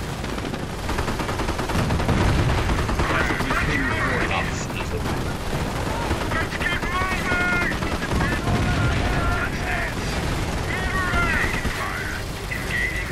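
Rapid rifle and machine-gun fire rattles through a World War II battle in the strategy game Company of Heroes, dense and continuous with whistles and distant booms, while soldiers' shouted voices cut in and out.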